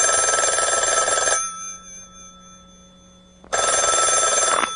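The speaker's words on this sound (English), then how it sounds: "go ahead and ring the phone." A telephone bell rings loudly in a long trill, goes quiet for about two seconds, then rings again just as loudly.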